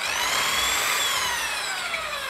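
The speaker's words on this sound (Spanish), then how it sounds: "taladramos otra vez con la broca de 6 esos 4 agujeros" Power drill with a 6 mm bit boring into a wall while a thermostat is being swapped, a loud continuous high whine that rises and falls slightly in pitch, close and steady until it cuts off.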